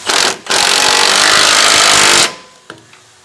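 A power tool whirs loudly for about two seconds while tightening grade 8 half-inch bolts on a Tacoma short bed rock slider, with a brief burst before the main run and a metallic clink afterward.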